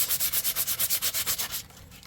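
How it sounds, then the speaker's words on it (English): Fine grit sandpaper rubbed over the edges of paper collage strips, making about fifteen quick, even back-and-forth scratchy strokes, close and soft, before stopping. "So I've got some fine grit sandpaper here that I am just going to kind of"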